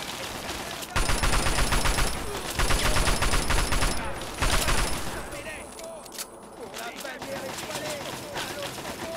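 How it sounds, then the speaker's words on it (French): Assault rifle fire in the game Fallout 3, rapid bursts of shots sounding loud and close in dense volleys, then thinning to scattered shots, with game sounds and effects around them. "On pourrait continuer. Avec le fusil d'assaut."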